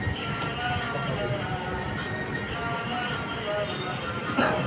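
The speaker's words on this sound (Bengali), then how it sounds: "এই দেখতে পাচ্ছেন এখন দ্রুত যাচ্ছে ট্রেনটি।" A train rushes quickly past at Katwa railway junction on a rainy day, a continuous rumbling clatter with faint metallic whining tones that stays loud and steady throughout.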